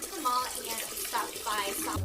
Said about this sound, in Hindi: पीछे से कुछ पानी गिरने की आवाज आने लगती है